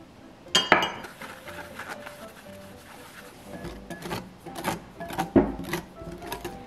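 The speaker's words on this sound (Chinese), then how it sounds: "搅拌到大致均匀。" A utensil stirs cookie batter of egg white, sugar, flour and cocoa in a bowl, giving irregular clinks and scrapes against the bowl, with a few sharper knocks among quieter swirling.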